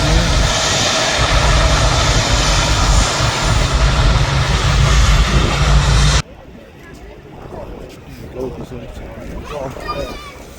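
Boeing 777 jet engines at Manchester Airport, a loud broad roar that cuts off abruptly partway through, leaving quieter background with faint voices.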